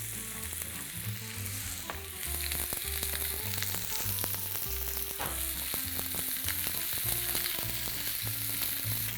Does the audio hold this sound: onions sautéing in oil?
yes